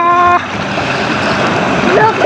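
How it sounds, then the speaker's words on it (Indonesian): Water splashes and sloshes around toy sea animals like a shark, whale, octopus, lobster and seahorse during play, a continuous close wash with brief voiced tones at the start and near the end. "Ada ombak besar lagi."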